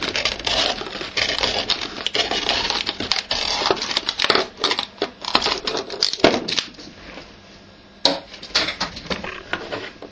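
Scissors cutting along the seam of a plastic bottle: close, loud crunching and crackling snips in an irregular series, with a brief pause near the end before one more crackle; no talking.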